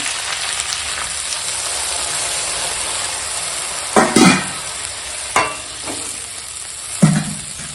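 Chopped kul shaak greens sizzle steadily in a hot pan, with scraping stirs and a few louder splashing hisses as water meets the sautéed vegetables, close and alone.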